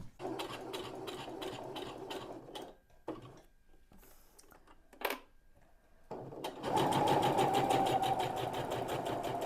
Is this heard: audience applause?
no